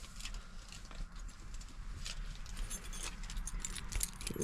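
Car keys jangle and rattle steadily near at hand beside a 2017 Jayco Seneca motorhome, with scattered sharper metallic clinks over a continuous low rumble.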